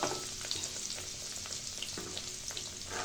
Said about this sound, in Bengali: রোলগুলো ভাজার জন্য